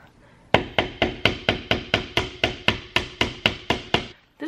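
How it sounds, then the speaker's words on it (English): A small hammer drives nails into a bookshelf in about fourteen sharp, evenly spaced strikes, close and loud, each ringing briefly before the next, with no speech. "All I have to do is hammer these nails into these little areas"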